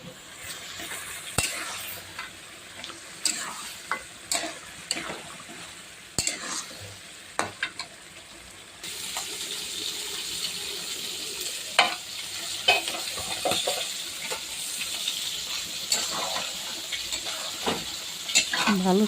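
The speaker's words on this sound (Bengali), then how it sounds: "মাংসটা দিয়ে দিলাম।" Meat sizzling and frying in a spiced onion masala with cumin, chili and turmeric, stirred repeatedly with scraping strokes; a steady close sizzle grows louder midway, with no talk.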